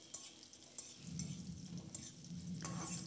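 Nigella seeds (kalo jire) crackle and sizzle in hot oil while being stirred for a fish dish, a soft, close frying hiss that swells after the first second.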